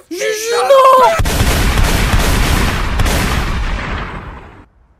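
Gunfire from a weapon in a video game: a voice calls out briefly, then a loud, dense roar of rapid shots and blasts runs continuously for about three seconds before fading out.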